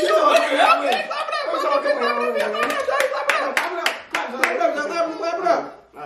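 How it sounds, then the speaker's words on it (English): Kids clap at home after a dunking game between siblings, sharp hand claps scattered across the moment amid children's chatter and giggling laughter. "Okay, clap it up."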